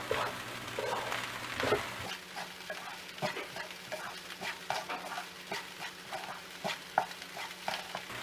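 Egg fried rice being stirred and tossed in a hot pan with sliced green onions, giving soft, rhythmic scrapes and light sizzling at a low, steady level close by.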